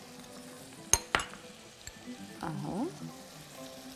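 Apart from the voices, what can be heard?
sausage being stirred and fried in a pan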